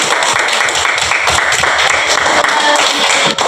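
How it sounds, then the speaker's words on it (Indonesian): A room of children clapping their hands together at a class gathering, a dense, loud patter of many hands close by, continuous for a few seconds with no voices over it. "Tepuk tangan ya teman-teman"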